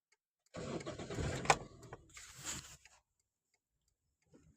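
A car engine cranks and catches after a clutch repair that replaced the release bearing, clutch plate and pressure plate, giving about two seconds of close, loud starting noise before it drops to near silence.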